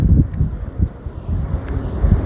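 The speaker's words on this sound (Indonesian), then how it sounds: "anginnya sangat kencang sekali, teman-teman, karena memang kita lagi berada di ketinggian" Strong wind buffets the microphone at a hilltop Portuguese-built fort, a loud, steady low roar that swells and gusts throughout with no talking.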